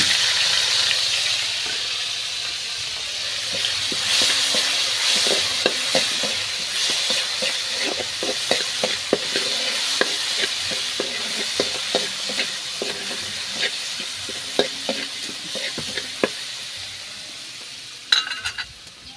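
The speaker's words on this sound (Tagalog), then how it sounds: "Ilagay na po natin ang ating alamang." Alamang (shrimp paste) fries in a pan with a steady, close sizzle, broken by frequent scraping and clicking as a utensil stirs it, over about nineteen seconds with no voices.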